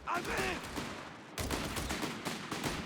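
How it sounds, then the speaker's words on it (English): Machine-gun fire in Company of Heroes 3, a 1v1 match with Havoc's Wehrmacht against Orangepest's US forces. A dense, continuous rattle of loud gunfire crackles over busy battle noise, with a brief dip just before midway, and a voice talks over it. "Here comes the machine gun now for Havoc"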